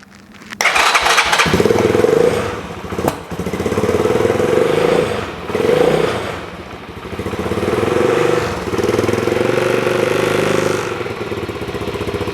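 Kymco K Pipe scooter engine fitted with an exhaust baffle cranks and starts, then runs on with a buzzing, uneven idle and occasional small revs, close by.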